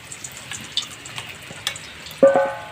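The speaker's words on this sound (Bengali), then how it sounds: "তেল গরম হয়ে গেছে শুকনো লঙ্কা ভেঙে আর তেজপাতা দিয়ে দিচ্ছি" Dried red chillies and bay leaves dropped into hot oil in a karahi, a soft sizzle with light clicks that swells into a sharp, louder frying hiss near the end, no voices.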